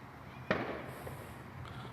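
A single distant firework bursts with a sharp muffled bang, followed by a faint echoing tail and low background noise.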